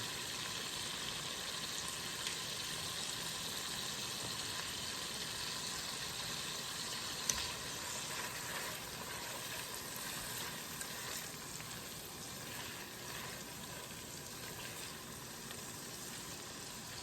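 Half a stick of butter sizzling in a hot pan, a steady, faint crackling hiss that carries on evenly without a break, with no talking over it.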